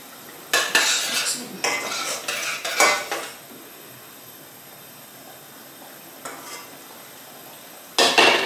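A spoon scrapes and clinks against a pot of white onion soup while scum is skimmed off, in a few close bursts separated by quieter stretches.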